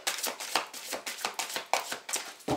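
A deck of Lenormand cards being cut and handled up close, a quick run of dry papery flicks and slaps in a steady rhythm, with no talking.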